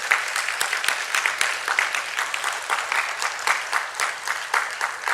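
A church congregation at a Methodist seminar in Korea gives a round of applause, a full, bright burst of many hands clapping with uneven swells and no voices heard over it.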